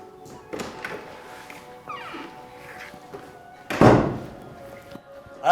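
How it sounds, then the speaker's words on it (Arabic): A door in a home drama scene is opened with a single loud thunk near the end, after quieter background sounds and faint movement, with no talk over it. "ورايحه افتح الباب"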